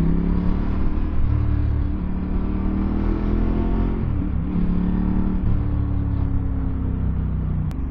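Low rumbling engine drone of a 2025 Ducati Panigale V4 motorcycle ridden through traffic while lane splitting, steady and fairly loud with slight rises in pitch, surrounded by road noise.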